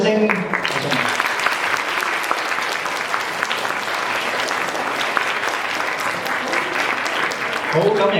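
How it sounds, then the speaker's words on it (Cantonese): Wedding guests applaud after a groom's song at the ceremony, a steady dense roar of clapping that fills the room and holds evenly throughout. "我哋俾啲掌聲。"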